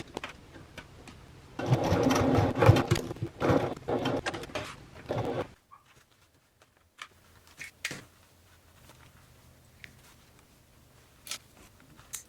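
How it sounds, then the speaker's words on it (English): A sewing machine runs in a few quick bursts of rapid top stitching on a travel bag, then stops, followed by scattered small clicks and ticks in a quiet room. "we're going to finish top stitching around all three sides of the zipper box window"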